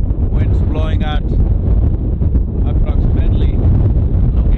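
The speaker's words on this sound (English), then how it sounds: "Look at this, very windy, winds blowing at" Strong wind at high altitude in the Mustang region of Nepal buffets the microphone in a loud, continuous low roar, with a voice talking over it.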